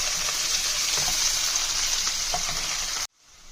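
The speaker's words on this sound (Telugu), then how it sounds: "ఆయిల్లో ఆనియన్, పచ్చిమిర్చి కట్ చేసుకొని సన్నగా వేసుకోవాలి." Sliced onion and green chillies sizzle loudly in hot oil for tomato curry, a steady bright hiss with faint stirring ticks that cuts off abruptly near the end.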